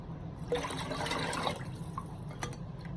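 Water is poured into a bowl while kadhi for dhaba-style curry pakora is being made, a soft, fairly faint splashing and trickling lasting a few seconds.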